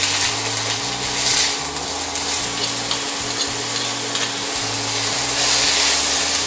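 Chopped onion and crushed dried anchovy fry in hot oil, a steady close sizzle with the intermittent scrape and churn of stirring running throughout.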